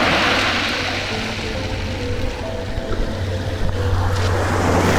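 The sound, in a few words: sea waves breaking on shore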